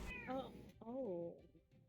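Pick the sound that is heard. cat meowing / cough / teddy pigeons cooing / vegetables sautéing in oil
cat meowing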